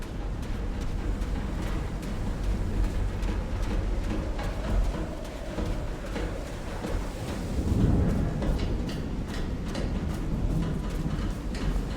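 Thunder rolls through a storm in the video game Call of the Sea, a deep sustained rumble with a heavier swell near the end, steady and fairly loud throughout without any voices.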